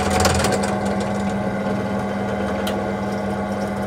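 A drill bores through metal into a tapped hole, giving a steady, loud mechanical whine and grinding hum that runs unbroken throughout, close by, with no talking.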